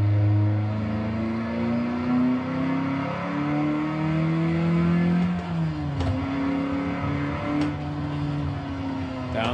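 Car engine in a manual-transmission driving simulator revving up and dropping back as gears shift, with a steady loud drone, pitch rising and falling through several changes and sharp clicks near the end.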